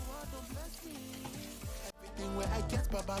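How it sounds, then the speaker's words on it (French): Banana fritter dough balls dropped into hot oil sizzle and bubble, starting with a moderate fry, then a sudden louder, busier crackle as more dough goes in, close and without talk. "Je vais envoyer des boules de pâte dans mon huile chaude pour réaliser mes beignets."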